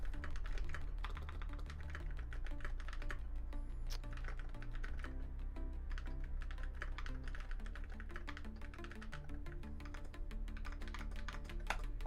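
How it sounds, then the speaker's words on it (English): Rapid, steady clicking of fingers typing on a computer keyboard, close and continuous for about twelve seconds, with a low hum in the background. "I'm typing everything up for the show."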